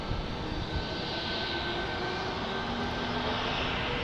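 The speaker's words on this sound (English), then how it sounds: "See, you can kind of see the fan blade spooling here on this Neo." An American Airlines A321neo at San Diego spools up its engine fans, producing a loud, continuous, close jet roar with a faint whine running through it.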